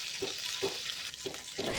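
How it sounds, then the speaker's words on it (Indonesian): Ground shallots and garlic sizzle in oil in a wok, a soft steady frying hiss broken by a few rhythmic scrapes of stirring, fairly quiet and close with no talking. "Nah, ini kita tumis ya, sampai bawangnya ini matang."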